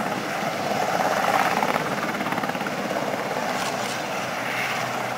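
A Westland Sea King HAR.3A helicopter at an air show, making a slow pass with a loud, steady rotor thump and engine roar.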